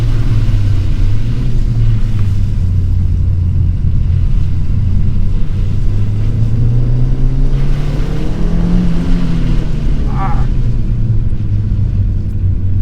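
Ford Fiesta ST with a Revo Stage 2 map accelerating on a wet racetrack, a steady loud in-car engine drone rising and falling in pitch through the gears, with no talk over it.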